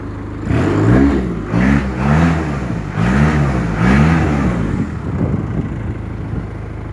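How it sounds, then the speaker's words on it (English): A Range Rover engine is revved up and down several times in quick, loud rising and falling bursts close by, then settles to a steady idle. "I'll give it a little rev"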